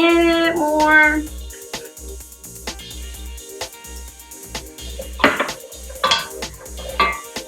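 Chilies in adobo cook in a pot for a plant-based, oil-free tortilla soup while a utensil stirs and scrapes, with scattered clinks and knocks over a low repeating hum.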